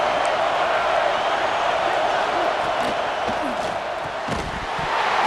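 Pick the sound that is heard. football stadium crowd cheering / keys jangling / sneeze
football stadium crowd cheering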